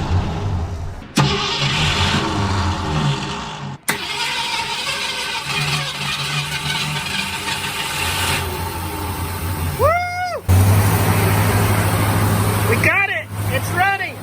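A 1964 Ford Falcon engine cranks repeatedly in bursts, then catches and runs with a steady, close rumble, with voices talking over parts of it.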